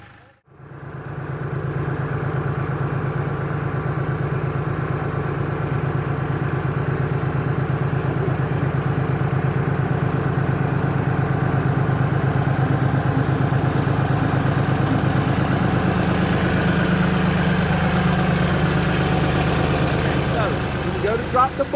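Kioti CK3510 tractor engine idling nearby, a steady low, even rumble that holds for about twenty seconds with no change in pace, alone without voices.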